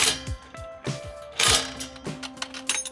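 A ratchet wrench tightens the final bolt on a Subaru WRX turboback exhaust and uppipe, giving short bursts of clicking with brief pauses between strokes, close and fairly loud.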